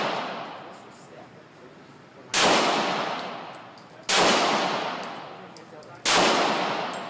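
Glock 35 pistol fired at a shooting range, three loud sharp gunshots spaced about two seconds apart, each with a long ringing decay, while a person talks quietly between shots.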